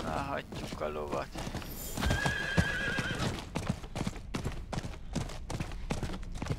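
Horse in the video game Diablo IV whinnies, then its hooves clip-clop in a quick galloping rhythm, mixed with game sounds and a voice speaking.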